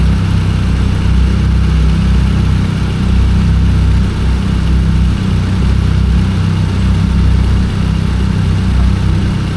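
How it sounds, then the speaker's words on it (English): A Mazda Miata NC sits running with its air conditioning on, the engine idling in a steady, loud low hum with a slight periodic pulse, and no talking over it. "We got the AC on, Tony?"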